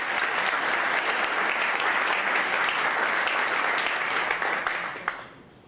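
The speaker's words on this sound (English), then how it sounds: "Let's give him a round of applause." An audience applauds steadily for several seconds, a dense wash of clapping that tapers off at the end.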